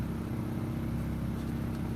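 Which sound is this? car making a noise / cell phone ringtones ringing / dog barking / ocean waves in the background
car making a noise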